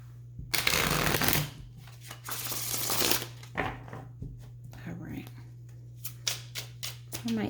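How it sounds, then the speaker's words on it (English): Tarot cards are riffled and shuffled in several brisk bursts, close and crisp, followed by lighter taps and slides over a faint steady hum. "One more shuffle."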